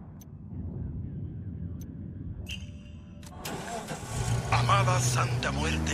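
A car engine in Ghost Recon Wildlands starts and revs up as the vehicle sets off, rising from a low idle rumble to a louder drive, with a voice speaking over it.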